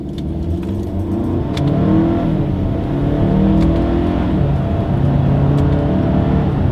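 A 2022 Hyundai Santa Cruz pulls away from a red light under paddle shifting. Its engine drone is loud and steady and climbs gradually as it accelerates, with no voices.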